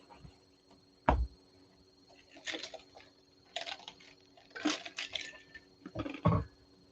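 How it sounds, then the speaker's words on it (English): Ice is crunched close to a microphone, producing several sharp, brittle crunches in irregular bursts separated by quiet pauses. "Crunching the ice into my mic."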